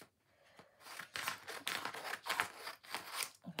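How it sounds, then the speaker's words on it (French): Scissors snipping through a round handmade paper card, cutting across the middle in a series of close, crisp crunching strokes that rise and fall over a few seconds, with no talking. "Alors, on va couper"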